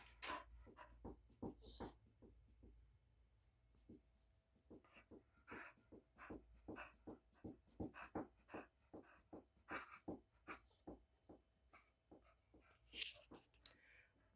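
A dog pants in quick, rhythmic bursts close to the microphone, with soft whimpers mixed in, quiet overall against a low background hum.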